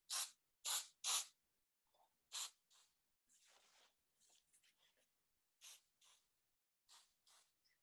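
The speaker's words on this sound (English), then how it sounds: "I would recommend a little bit of spray snow." Several short hissing bursts of spray snow aerosol misted over a winter floral arrangement, three quick loud blasts followed by softer, scattered sprays and brief handling noises, close up with no talking.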